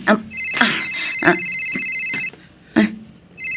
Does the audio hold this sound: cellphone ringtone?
yes